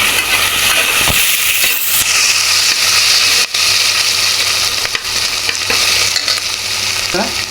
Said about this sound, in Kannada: 3-4 ಹಸಿಮೆಣಸಿನ್ಕಾಯಿ ಹಾಕ್ಕೊಳ್ಳಿ. ಇದು ಲೈಟಾಗಿ ಬಾಡಿಸ್ಕೊಳ್ಳಿ.